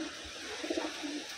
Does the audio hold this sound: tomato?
no